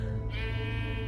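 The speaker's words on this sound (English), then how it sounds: "A sheep?" A sheep in the Minecraft Story Mode video game gives a single loud, drawn-out bleat that rises partway through and sustains steadily, up close with no talking.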